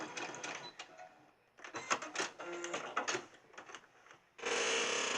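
A home sewing machine stitches fabric for a crib hanging organizer in bursts of rapid mechanical rattling, pausing between runs, then ends with a louder, steady whirring stretch.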